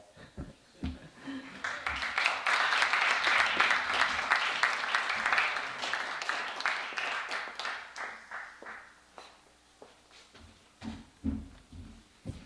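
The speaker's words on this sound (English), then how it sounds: "Let's give him one more round of applause." An audience bursts into sustained applause that swells, holds for several seconds, then thins into scattered claps as a voice speaks.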